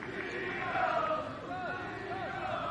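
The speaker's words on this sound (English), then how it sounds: "the levels from the crowd are definitely rising" Colwyn Bay football supporters at a JD Welsh Cup match against Cardiff Met, a steady crowd roar with rising cheers and some whistles, continuous and fairly loud throughout.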